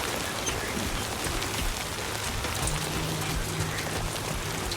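Rain falls steadily in a video game, a dense even patter that keeps up throughout with no voices, a faint low hum beneath it partway through.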